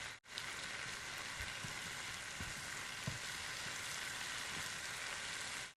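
Sliced tomatoes and mushrooms sauté in a hot pan, giving a dense, even sizzle that hisses steadily from start to finish, close up with no voices.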